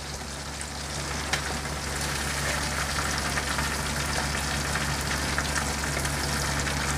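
Chicken pieces frying in hot oil for biryani give a steady, dense sizzle with fine crackling and popping throughout, close and continuous over a low hum.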